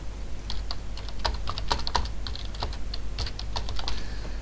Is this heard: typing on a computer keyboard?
yes